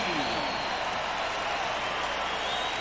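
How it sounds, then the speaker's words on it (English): Basketball arena crowd at a 1998 NBA playoff game between the Spurs and Suns, on its feet cheering and clapping in a loud, sustained roar that fills the space throughout. "The crowd is on their feet."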